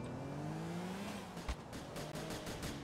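A car drives in GTA 4, its engine climbing in pitch with a few sharp knocks and a thud, fairly quiet and heard alone.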